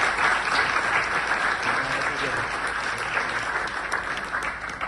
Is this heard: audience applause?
yes